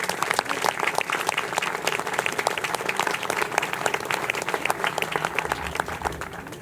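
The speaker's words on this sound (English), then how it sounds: "Please join me in applause as he comes to the podium." Audience applause at a Montford Point Marine observance greets a Marine lieutenant general coming to the podium, a sustained, even wash of many hands clapping throughout.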